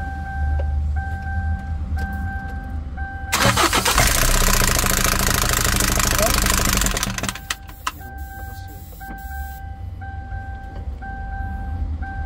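A car engine with a noisy timing chain cranks and runs roughly for a few seconds with a rattling mechanical clatter, then cuts off, leaving a repeating electronic chime.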